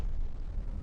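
A grenade blast in the shooter game FEAR, a short, dense, rumbling explosion that fills the moment with heavy low boom and no voices.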